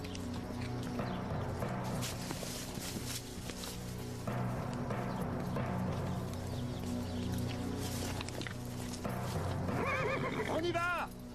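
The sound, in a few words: horses neighing and galloping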